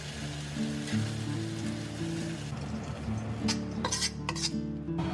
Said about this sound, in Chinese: 直接转移到电饭煲内胆